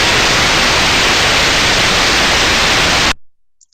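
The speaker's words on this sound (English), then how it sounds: "Smooth, uniform white noise." Ultrasound recording of a healthy machine bearing: smooth, uniform, loud white-noise hiss held steadily for about three seconds before stopping abruptly.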